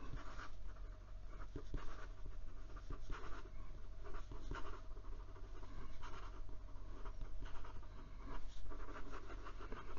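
A Penbbs Niangao 355 fountain pen nib moves quickly over paper, producing soft, close scratchy strokes in quick bursts over a low steady background hum.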